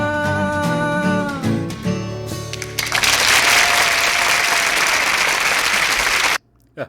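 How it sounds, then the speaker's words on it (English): Loud crowd applause and cheering from a live audience at the end of a song recording, rising over the last sung and played notes and then cutting off abruptly. "Cut that crowd noise at the end"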